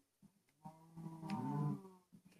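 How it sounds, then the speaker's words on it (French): A cow moos in the Minecraft video game, one drawn-out low moo rising and then fading, clear and close, with faint clicks before and after. "Il y a toujours cette grosse vache là qui te dérange."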